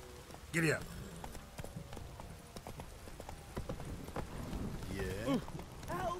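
Horse hooves clip-clop at a steady pace in The Witcher 3 game, a moderate rhythmic clatter with brief whinnying sounds near the start and end, under game ambience and a voice.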